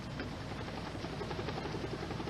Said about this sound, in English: Two-year-old Stephen was transported by airlife helicopter to Porter Memorial Hospital in a coma